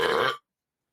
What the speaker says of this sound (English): it's a Diet Pepsi burp